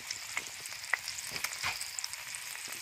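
Bacon, eggs and woodcock fry together in a pan, giving a faint, steady crackle and sizzle with scattered sharp pops of spitting fat.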